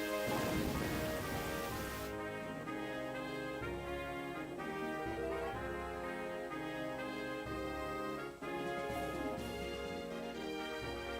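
Wind and rain in the video game Pokémon White form a steady, continuous wash that runs for several seconds beneath layered game music, with no voices.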